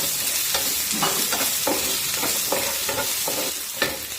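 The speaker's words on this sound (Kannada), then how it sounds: "ಸೊ ಈಗ ಇದನ್ನೆಲ್ಲ ಫ್ರೈ ಮಾಡೋಣ" Curry leaves and chopped onions fry in an oiled pan, giving a steady hissing sizzle, and a spoon scrapes and stirs through them at irregular intervals.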